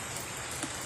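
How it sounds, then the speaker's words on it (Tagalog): Heavy rain pours steadily outside a house, a dense, even hiss of falling water with no voices over it. "Nagaulan na. Kusog-kusog na gyud ang ulan guys."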